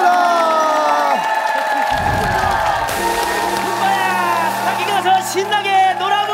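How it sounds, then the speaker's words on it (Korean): An audience in a Korean TV variety show studio cheers and claps beneath loud music with sustained tones, forming a busy crowd roar that swells in bursts toward the end. "박수를 부탁드리겠습니다"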